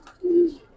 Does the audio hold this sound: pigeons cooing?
yes